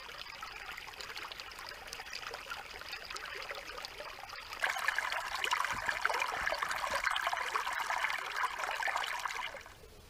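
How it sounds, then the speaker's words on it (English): Creek water flows steadily through Trachyte Creek at a Utah backpacking campsite, a continuous trickling stream that grows noticeably louder about halfway through and carries on with no voices. "So we have flowing water in Trachyte Creek where we camped last night."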